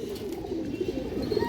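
A big-headed, parrot-shaped male pigeon coos in a short run of low, rolling calls, close by over a steady background hum.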